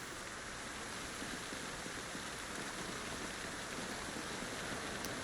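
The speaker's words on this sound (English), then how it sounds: "The rain is like incredibly loud right now." Steady dense rain hiss in a survival video game, continuous and fairly even, filling the background with no other sounds.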